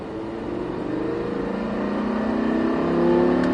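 A race car on the Circuit de Haut Saintonge during a Sprint Racing driving course, its engine accelerating with a steady, rising drone heard close from inside the car, no voices.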